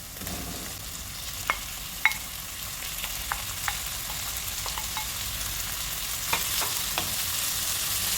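Meat frying and being stirred in a pan for lasagna, a steady sizzle with scattered sharp scrapes and clinks of the utensil, close and alone.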